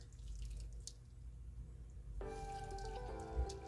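Juice drains from slow-cooker Italian beef as it is pressed down in a strainer, a faint trickle and drip with a low hum under it and one soft thump near the end.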